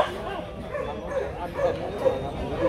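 Bac Ha dogs, a Vietnamese native breed, at a breed certification and judging event, with yips and whimpering barks mixed into steady crowd chatter and talk nearby.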